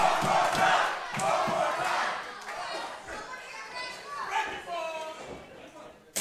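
Wrestling arena crowd roaring and shouting steadily for about six seconds, with a dense wash of voices that swells and dips and a sharp burst at the end.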